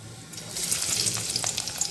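Chopped onion, garlic and green chillies hit hot oil, producing a loud, bright crackling sizzle that swells quickly and keeps spitting and popping close by.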